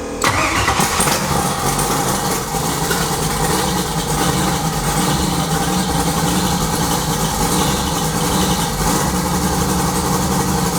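A twin turbo Ford Mustang engine cranks and fires, then settles into a loud, steady rumbling idle that holds close and unbroken to the end, no voices heard.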